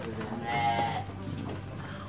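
A Garut gibas sheep gives a single faint bleat in the middle of a fattening farm pen holding about 120 animals, set against a low, steady barn background.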